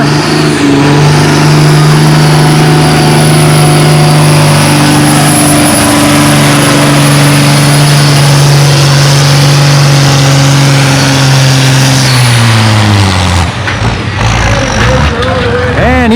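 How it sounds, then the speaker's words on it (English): A Cummins-swapped Oliver 1800 tractor roars loud and sustained while pulling a 7,000-pound sled at a tractor pull on wet clay, the engine holding a steady drone before the clutch goes in and it drops away. "Another full pull for that Cummins swapped Oliver."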